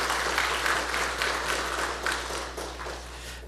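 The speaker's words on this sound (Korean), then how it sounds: "우리 박수로 환영합니다." A church congregation applauds to welcome a newly registered member during a service, a sustained, even round of many hands clapping over a low steady hum.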